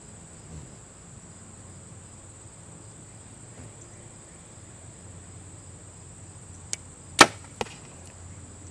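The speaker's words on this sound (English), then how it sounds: "We're going to shoot the broadhead first, that way we're not banging up arrows." A broadhead-tipped arrow is shot from a bow with a hinge release: one sharp, loud release snap near the end, bracketed by two softer clicks, over a quiet outdoor background with a steady insect drone.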